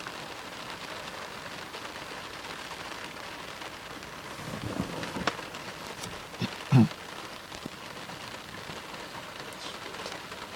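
Steady rain patters on a car during a lightning storm in Dublin, Indiana, heard from inside, with low rumbles and a brief louder thump near the end.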